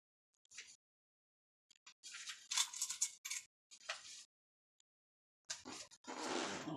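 Scissors snip through bodysuit fabric in several short bursts of close, crisp cutting, with pauses between, ending in a longer, louder run of cuts.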